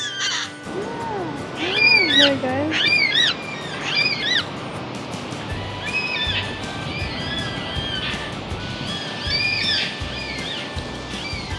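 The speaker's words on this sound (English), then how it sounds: "I love the black cockatoos." Harsh, wailing bird calls from black cockatoos repeat in bursts, fairly close, over a steady outdoor hiss, with a brief spoken remark.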